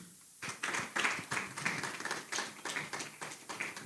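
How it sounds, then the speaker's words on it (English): An audience at a business event gives sustained applause for an arriving speaker, many hands clapping in a dense, steady patter after a brief quiet start, moderately distant and fairly soft. "Can we keep clapping until he gets here?"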